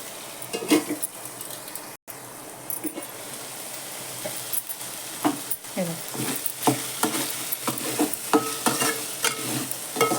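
Wheat kurdai vermicelli and vegetables sautéing in a pan, with steady frying hiss, scattered scraping stirs and light clinks near the pan, no voices.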